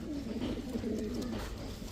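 A pair of red-geared, zeera-necked flying-line pigeons offered by a pigeon seller coos steadily and close up for the whole stretch, a low rolling call with no talking.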